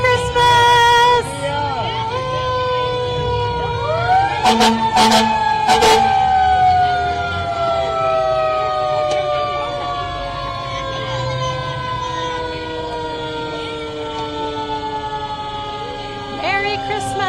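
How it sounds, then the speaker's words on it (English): Fire engine rolling through a Christmas parade on Main Street in Martinsburg, its siren wailing and gliding downward over many seconds amid bursts of horn blasts, with crowd chatter and an announcer speaking. "here's a fire engine that was a little out of order"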